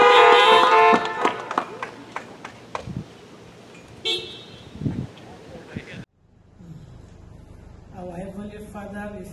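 Car horns honk from vehicles gathered at an outdoor Houghton Academy commencement, with a cluster of loud toots at the start and more near the end, mixed with wind noise and background voices.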